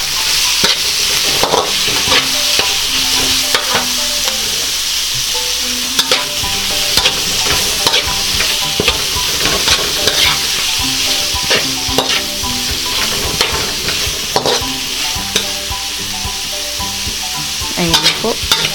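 Shrimp stirred in a hot oiled pan for a shrimp honey with broccoli dish, giving a steady, close sizzle with repeated scraping strokes throughout and soft background music underneath.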